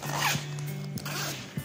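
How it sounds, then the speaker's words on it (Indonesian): The side zipper of a Torch Fujisawa 45L + 3L travel backpack is pulled in a few quick, rasping strokes, close and steady with short pauses between pulls. "resleting samping"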